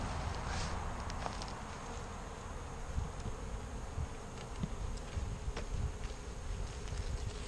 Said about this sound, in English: The bees will migrate up to the queen.